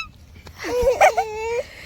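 A chicken squawks and clucks loudly nearby in a short burst of agitated calls as young twins try to catch it, with a thump near the start and a sharp peak of alarm midway.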